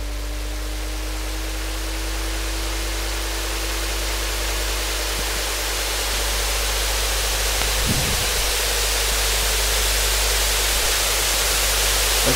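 Watery white-noise wash from a Cryptonym Operator synth pad, a dense, steady hiss with a faint gliding tone early on, loud and continuous throughout.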